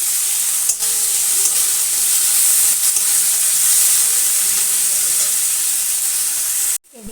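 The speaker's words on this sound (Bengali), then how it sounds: "এদিকে পেঁয়াজ রসুনটা ভালো করে ভাজা হয়ে গেছে" Onions and garlic frying in a pan give a loud, continuous, close sizzle and hiss that runs steadily for about seven seconds, then cuts off abruptly.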